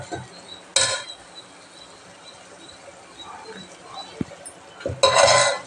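A spoon stirs coconut powder frying in a pan for mutton curry, giving two short scraping, clinking bursts against the pan, with quiet sizzling in between.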